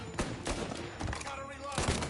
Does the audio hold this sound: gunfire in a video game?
yes